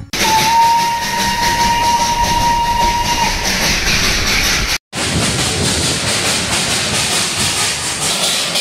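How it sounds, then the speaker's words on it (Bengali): A Darjeeling Himalayan heritage steam toy train rumbles and hisses loudly nearby, a long steady whistle sounding over it before a brief cut and more chugging noise. "এই সেই দার্জিলিং হেরিটেজ টয় ট্রেন।"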